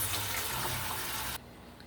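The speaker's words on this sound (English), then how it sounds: "we're going to catch some water in the pot" Tap water gushes steadily into a cooking pot for about a second and a half before cutting off abruptly, close and fairly loud, with only faint room noise afterward.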